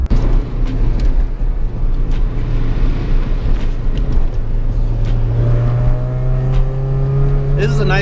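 Car engine pulls steadily up a hill while its new piston rings are being seated, a close, continuous drone that rises in pitch toward the end; a voice is heard over it.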